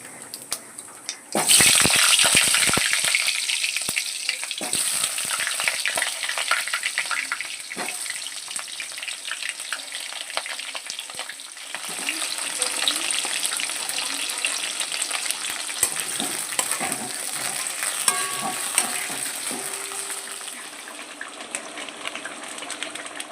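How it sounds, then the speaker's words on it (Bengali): Chicken meat frying in a pan, a continuous close sizzle and hiss that starts suddenly and keeps up steadily, with small crackles and clatters of stirring. "চলো কি রান্না করছি দেখো মাংসটা বসিয়ে দিই"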